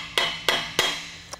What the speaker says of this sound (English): The trick is to use a brass hammer so we don't damage this beautiful forged yoke